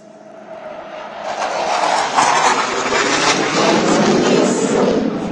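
An aerobatic airplane rolls through an opposing 450-degree aileron roll at an air show celebrating South Africa's 30th anniversary of freedom, its engine swelling from a distance into a loud, sustained roar that holds steady overhead.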